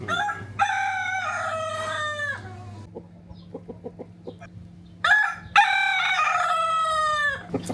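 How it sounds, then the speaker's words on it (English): A rooster crows loudly nearby at a country business near Riesa, Germany, twice, with hens clucking softly in between the long, strained calls. "a load of chickens and a very loud rooster knocking about"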